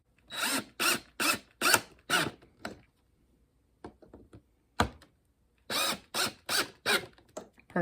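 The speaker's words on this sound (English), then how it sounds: "and let's get the drill" A power drill boring holes while building a woodturning sharpening jig, in repeated short loud bursts with brief pauses between them, close by and with no talking.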